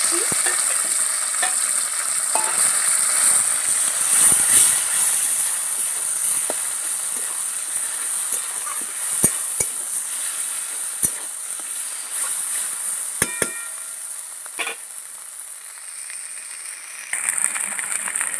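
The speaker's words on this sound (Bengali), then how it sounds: "পেঁয়াজটা লাল করে ভাজা হয়ে গেছে বেটে রাখা মাছ দিয়ে দিচ্ছি" Ground rohu fish hitting oil with onions already fried red and kalonji, sizzling in a steady, bright hiss for a long stretch, with a few sharp clinks of a stirring spoon against the pan.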